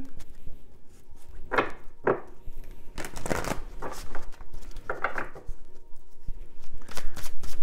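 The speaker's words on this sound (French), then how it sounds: "je vais bien mélanger le jeu" A deck of tarot cards being shuffled, with several separate bursts of riffling and slapping cards, fairly close, with quiet handling between.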